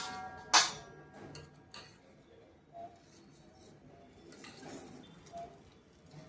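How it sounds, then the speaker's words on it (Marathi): Shankarpali dough ingredients being mixed in a bowl: a sharp utensil clink near the start, then sparse soft taps and scrapes at a low level, with no one speaking. "आता मी त्याला मिक्स करून घेत आहे"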